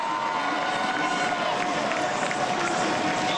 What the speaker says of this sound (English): The crowd bring him home up the long straight of the Avenue Foch here in Gap.